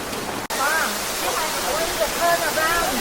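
A waterfall on Bali roars as a constant broadband rush of falling water, loud and steady, with people talking faintly over it.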